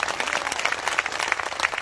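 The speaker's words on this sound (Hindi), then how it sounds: "आपको वार्ता करने एक बार जोरदार तालियों को स्वागत करो" A seated crowd at a community gathering claps to welcome a speaker, a dense, even patter of applause that continues throughout the short moment.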